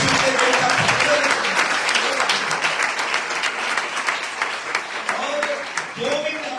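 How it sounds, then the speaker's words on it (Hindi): A church congregation at a Hindi-language sermon claps loudly in praise of Jesus, with dense, sustained clapping beneath voices and a speaker talking over it. "यीशु के लिए जोरदार ताली"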